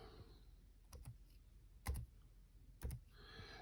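Computer keyboard typing in a quiet room during an online language class: a few soft, scattered key presses, with two slightly louder clusters of clicks and no talking.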